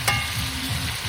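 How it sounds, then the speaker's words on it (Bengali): Duck meat sautés in a pan, a dense close sizzle with a brief stirring scrape near the start, no talking over it. "আমাদের মাংসটা কষানো চলছে।"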